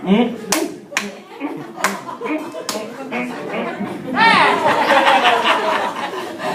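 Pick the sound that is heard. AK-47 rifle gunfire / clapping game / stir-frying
clapping game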